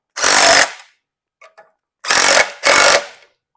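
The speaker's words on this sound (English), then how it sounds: "I'll use the impact driver, but not all the way. Let's do a little bit, just to snug her up." An impact driver tightens a part held in a vise during a 1973 Mustang rear floor restoration, three short loud hammering bursts with a faint tap between them, close by.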